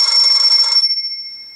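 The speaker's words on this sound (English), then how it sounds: "Then we have Classic Electric." Classic Electric, a stock ringtone on a ZTE Open Firefox OS phone, gives a loud, buzzing electronic ring for under a second, then a clear ringing tone that slowly fades, with nothing else heard.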